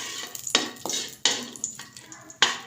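A spoon scrapes and clinks against a kadhai as a tablespoon of ghee melts, made while preparing village-style flaxseed pinni. There are several sharp, close scraping strokes with a faint sizzle in between.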